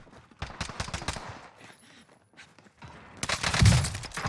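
Bursts of automatic gunfire in a Warzone match, with KG M40 rifle shots cracking in quick volleys near the start and a louder, denser burst toward the end; a voice calls out briefly over the shooting.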